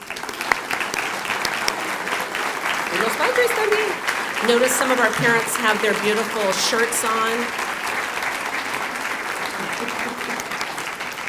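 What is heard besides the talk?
audience applause for parents, community leaders and district partners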